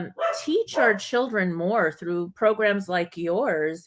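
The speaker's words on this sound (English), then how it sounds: "oops, sorry about my dog." A dog barks in the background of a home video call while a person keeps talking over it, the barks staying fainter than the voice.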